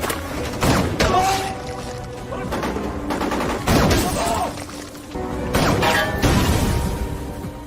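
Bursts of gunfire and thudding blasts in a dense war-film battle scene between Iranian and Iraqi soldiers, a sniper picking off troops, loud and continuous with a voice talking over it.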